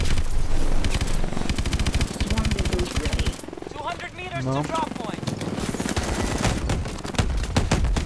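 Rapid automatic gunfire in the shooter game Call of Duty: Advanced Warfare, loud sustained bursts that pause midway and resume, with someone speaking over the shooting.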